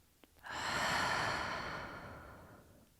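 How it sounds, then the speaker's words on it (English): A long, breathy exhale through the nose during a relaxing yoga breathing cue, swelling quickly and then fading slowly over a few seconds, close and soft with no talking. "Audible exhale."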